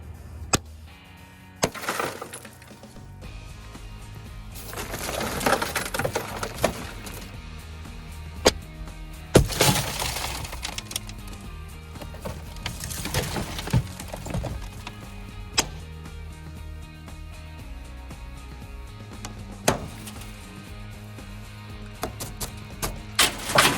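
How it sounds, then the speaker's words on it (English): A rescue service tool's glass breaker striking a car window during an extrication test: a series of sharp cracks and thwacks spaced several seconds apart over low background noise, with glass cracking and crunching. No one speaks. "So first, let's talk about the glass breaker."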